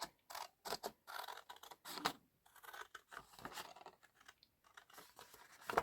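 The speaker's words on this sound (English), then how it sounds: "So I'm going to cut along this edge" Scissors snip through Graphic 45 Christmas-themed paper along an edge in a series of quick, close, crisp cuts with short pauses between strokes.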